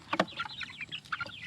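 Chickens kept in a small rural backyard flock cluck softly in a brief run of short, quick calls close by.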